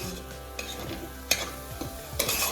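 A spiced fenugreek-leaf mixture with salt and turmeric stir-fried slowly in a pan, giving close, soft scraping strokes over a faint steady sizzle, with a few sharper clinks and no voices.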